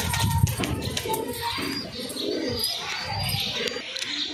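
An adult pigeon flying alone outdoors, its soft low cooing and a few chirps running steadily throughout, with a brief burst of wing flaps near the start under a constant background hiss.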